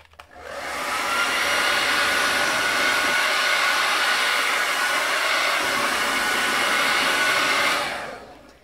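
A heat tool blows a steady, loud whoosh of hot air over a drying painted mixed media page, switching on and running continuously for several seconds before cutting off, with no talking.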